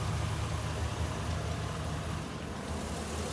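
A Chevrolet 2500 HD engine idles with a steady, low, even rumble that holds constant throughout, with no talking.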